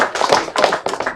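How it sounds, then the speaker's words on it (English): Short burst of hand clapping from an audience, a few quick, close claps in about a second. "I think we should give her a round of applause."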